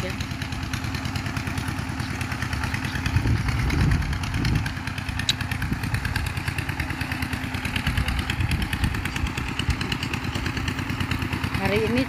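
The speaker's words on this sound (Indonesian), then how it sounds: "Itu di sana ada orang ngebor" Steady mechanical drone of drilling machinery running nearby at a house-building site, a continuous rumbling engine throb with no breaks, with voices talking faintly over it.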